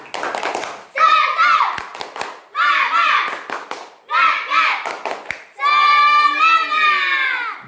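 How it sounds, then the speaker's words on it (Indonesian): Schoolchildren in an Indonesian classroom doing a rhythmic spirit clap, bursts of clapping in patterned groups alternating with the children chanting together in unison, ending in a long sung shout. "Anak didikku sekalian, lihat sini, tepuk semangat"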